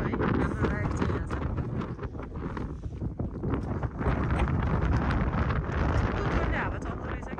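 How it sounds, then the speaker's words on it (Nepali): Strong wind buffets the microphone on a high mountain road in Upper Mustang, Nepal, a steady loud roar with gusty swells throughout. "हावा चल्दो रहेछ कि यहाँनिर"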